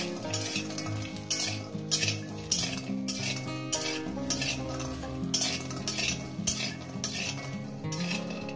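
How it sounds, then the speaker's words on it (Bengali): Lentil dumplings (bori) sizzle steadily in hot oil in a pan while a utensil stirs and scrapes against the metal in a regular rhythm, roughly once a second, close up and with no talking. "বড়িটাকে দিয়ে আমি একটু লাল লাল করে ভেজে নেব।"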